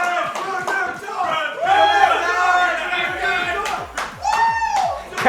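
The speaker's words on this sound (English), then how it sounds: "Crowd going somewhat crazy for that Renekton pick" An esports crowd at a League of Legends tournament cheers and shouts over a Renekton pick, a loud roar with bursts of yells and claps, while a caster talks over it.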